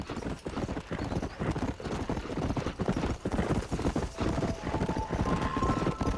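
Horse hooves clip-clop in a steady rhythmic gait in the Red Dead Redemption video game, moderately loud and continuous, with faint background game ambience.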